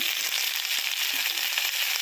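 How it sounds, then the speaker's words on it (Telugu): Gongura leaves with curry leaves fry in a pan, a steady bright hiss of sizzling oil with a few faint crackles, close and continuous. "గోంగూర వేయించుకున్నాం కొంచెం కరివేపాకు కూడా వేసుకున్నాం"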